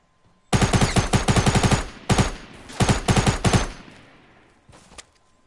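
Video-game gunfire aimed at the player: loud, close bursts of rapid automatic shots in several rattling volleys with short gaps, then trailing echo and a faint final burst, with no talk over it.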